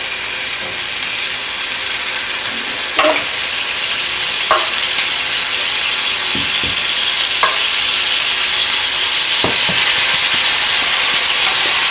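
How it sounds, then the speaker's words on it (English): Loud, steady sizzling of chicken tikka ingredients and turmeric frying in hot oil, close by, with occasional clinks of a utensil stirring. "so you hear that sizzle? That's what you want to hear to make sure that the oil is hot."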